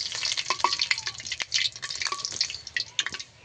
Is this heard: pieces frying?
yes